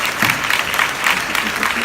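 An audience at an unplugged live set by Bunji Garlin in the Apple Store in Williamsburg gives a big round of applause, a steady, full burst of clapping close by.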